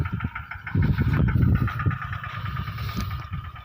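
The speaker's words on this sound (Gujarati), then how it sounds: "અને ટ્રેક્ટર હાલે છે." A tractor engine runs in a field of flowering pigeon pea, a steady, fairly loud, close chugging drone that swells slightly midway and holds throughout.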